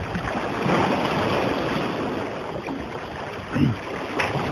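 Harbour ambience by the sea in Władysławowo, with a steady broad wash of water and wind around moored boats, a brief knock near the end, and no voices.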